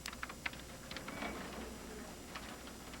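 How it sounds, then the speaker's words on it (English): Faint, quiet clicking of keys on a computer keyboard, irregular taps scattered over a low background hiss, with no voices. "make a living typing data about us into computers"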